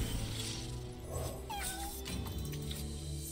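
Kitten meowing sound effect from the Legends of Runeterra card game: a few quick, high cat meows and a caterwaul over game music, with faint talk.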